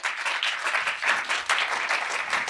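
A studio audience applauds steadily to welcome a guest onto the set, a dense, continuous wash of clapping that holds at an even level throughout.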